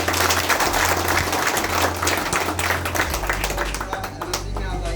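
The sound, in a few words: audience clapping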